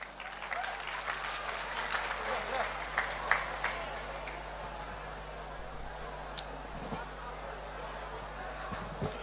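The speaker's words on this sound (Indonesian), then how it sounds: "Beri tepuk tangan." An audience at an Islamic lecture gives a round of applause, a moderate, fairly distant patter of clapping that runs steadily, with murmuring voices and a faint low hum underneath.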